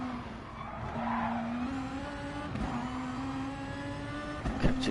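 Race car in a racing video game at Bathurst braking hard into the Dipper, engine note dropping as tyres skid and squeal in a sustained tone, ending with a couple of sharp knocks.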